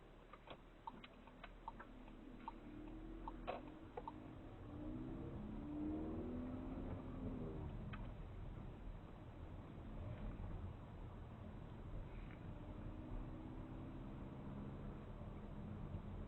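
A car pulls away during a mock driving test in Kingstanding, its engine rising steadily from idle into a low, continuous rumble close by. Faint ticking sounds at the start, with no talk over it.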